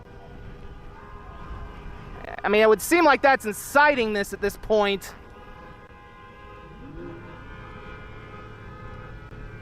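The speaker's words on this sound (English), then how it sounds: "you can hear the honking right now" Car horns honk in a street during a riot, a cluster of loud, repeated toots bunched together over a few seconds, while someone talks over them.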